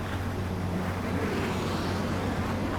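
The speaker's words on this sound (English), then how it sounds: "Attempting to land. I don't think my plane will make it." A fighter jet in Ace Combat 7 comes in to land, a steady loud engine roar and rumble held throughout with no speech.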